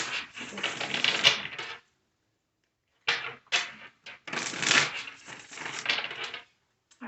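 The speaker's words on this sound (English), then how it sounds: "All right, this will be our last shuffle." Tarot cards being shuffled in short bursts, crisp riffling and flapping of the deck close up, two main flurries separated by a silent pause, with no talking.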